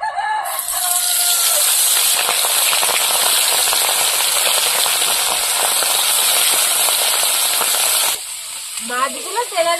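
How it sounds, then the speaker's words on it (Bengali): Small prawns coated in salt and turmeric hit hot oil in a village kitchen wok, giving a loud, continuous, hissing sizzle that holds for several seconds before fading, with a rooster crowing nearby at the start and end. "এবার মাছগুলো ভেজে নেব"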